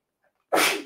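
A single loud, close sneeze bursts out after near silence, a sharp broadband blast that trails off within half a second.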